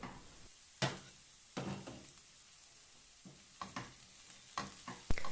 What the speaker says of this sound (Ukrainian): На сковорідку я додала олії і додаємо цибулю.